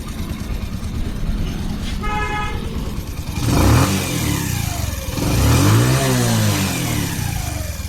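A repaired motorbike engine with new bearings, piston rings and timing chain, idling steadily, then revved twice in rising-and-falling sweeps, with a short horn toot before the first rev.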